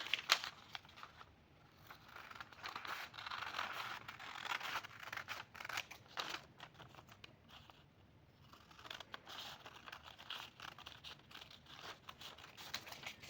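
Scissors snip and crunch through fabric pieces for a baby frock, close and quiet, with repeated cutting strokes, paper-like rustles and short pauses between runs.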